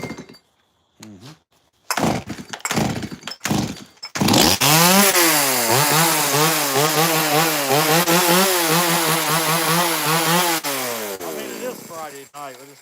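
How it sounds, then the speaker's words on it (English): A chainsaw in a carving shanty, first a few short revving bursts, then a long loud sustained cut through wood with the engine pitch rising and falling, close and dominant before trailing off. "Chainsaw."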